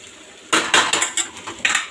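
A metal lid set onto a pan while cooking a quick bitter gourd dish, giving a sharp clatter followed by several lighter rattling knocks, close and clear with no speech.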